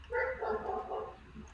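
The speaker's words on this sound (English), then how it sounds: "I apologize for the barking dogs in the background if you all can hear it." Dogs bark faintly in the background behind a home recording, a short cluster of muffled barks and yips, distant and low, with no talking.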